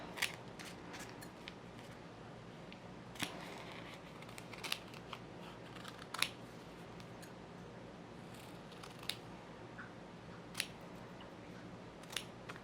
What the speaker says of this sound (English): First, I'm going to cut off some of this excess just because it's such a crazy piece of felt.